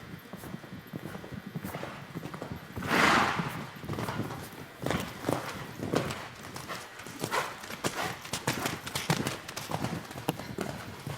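Horse hooves clip-clop steadily through an equestrian medal ride over gymnastic jumps, rhythmic footfalls close by with occasional louder strikes, no talk over them.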